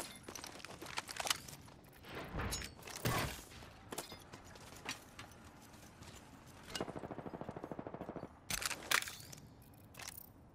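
Bursts of gunfire in the battle royale game Apex Legends, with rapid repeated shots including a sustained automatic burst, loud and close, alone without talk.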